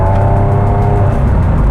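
Loud, steady engine note from a Porsche 996-generation 911, a continuous rasping drone with strong low rumble holding throughout, no talk over it.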